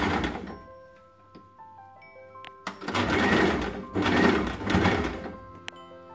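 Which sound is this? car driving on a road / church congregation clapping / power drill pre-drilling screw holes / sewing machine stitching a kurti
sewing machine stitching a kurti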